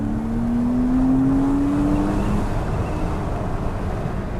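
Porsche Cayman 987.2 engine running with a steady, loud mechanical drone, its tone climbing gradually over the first couple of seconds before settling into an even hum.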